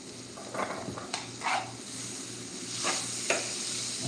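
Sofrito sizzles in a pan, a low steady fry broken by a few short stirring scrapes and clinks over a brief stretch.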